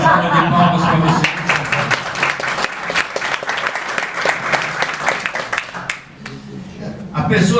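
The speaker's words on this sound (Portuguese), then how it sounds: "Uma salva de palmas para você." Audience applause at a Saturday-morning lecture, a steady wash of many hands clapping that fades briefly near the end, with a voice talking over the start and close.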